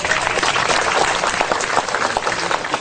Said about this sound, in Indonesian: Tepuk tangannya ikhlas buat beliau.